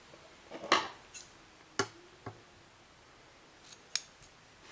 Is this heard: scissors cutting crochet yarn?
yes